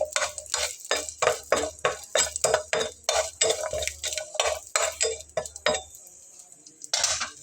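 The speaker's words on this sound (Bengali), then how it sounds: "তারপরে আমি এর ভেতরে দিয়ে নেব গোটা রসুন কোয়া করে নেওয়া, দিয়ে একটু নেড়ে চেড়ে দেবো" A utensil stirs whole garlic cloves in a pan with a little oil, making rhythmic close scrapes and clinks against the metal over a light sizzle, with a brief pause before a final stroke.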